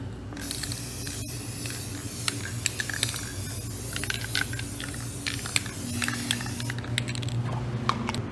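Coating sprayed over epoxy resin and wood for a tabletop or art piece, a steady close hiss of aerosol spray running the whole time with small clicks and a low background hum, no talking.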